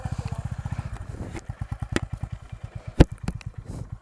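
A TVS Ronin motorcycle ridden on a trip to Hundru Falls near Ranchi, its single-cylinder engine thumping in a steady, fast pulse close by, with a few sharp clacks and bumps over it.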